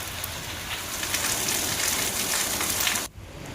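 Light, steady rain falls over Radhanpur town in Patan district, a soft continuous hiss that holds evenly and then drops away abruptly near the end, with no voices.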